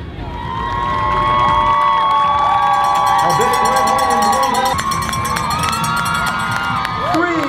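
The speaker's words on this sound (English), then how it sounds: "greeted by loud cheering" Loud crowd cheering and shouting at the Army 10 Miler finish line as runners arrive, with whoops, children's shouts and a mix of voices filling a busy outdoor race scene.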